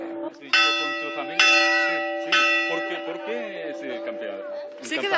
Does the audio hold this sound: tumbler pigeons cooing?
no